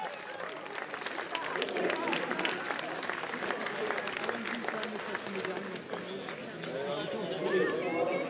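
A racecourse crowd applauds jockey Christophe Lemaire after a winning return, a distant wash of clapping and crowd noise running under steady commentary.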